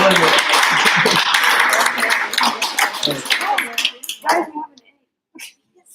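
A group claps for student presentations, a dense burst of applause that thins into scattered individual claps and fades to near silence.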